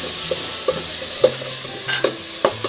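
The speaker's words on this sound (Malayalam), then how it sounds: "മഞ്ഞൾപ്പൊടി ഒരു ടേബിൾ സ്പൂൺ ചേർത്ത് കൊടുക്കുക മല്ലിപ്പൊടി ഒരു ടേബിൾ സ്പൂൺ കുറച്ച് നേരം ഒന്ന് വഴറ്റിയെടുക്കാം" Turmeric and coriander powder sautéing in a pan give a soft, steady sizzle. Irregular spoon scrapes and taps stir through it up close, with no talking.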